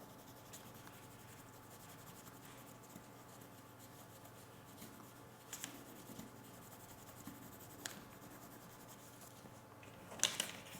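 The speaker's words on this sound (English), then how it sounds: "again slightly shade with a pencil, okay" A pencil shades softly over a coin laid under paper, a quiet continuous scratchy rubbing that runs steadily with a few slightly louder strokes near the end.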